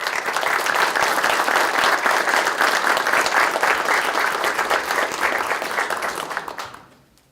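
An audience at the ribbon-cutting ceremony for the renamed Appalachian Wireless Arena in Pikeville, Kentucky, applauds in a loud, sustained, even wave of clapping that fades out at the end.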